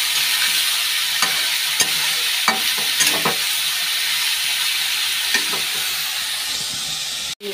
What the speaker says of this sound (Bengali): অর্ধেকটা ভাজা হয়ে গেলে, জলটা টেনে গেলে হলুদটা দেবো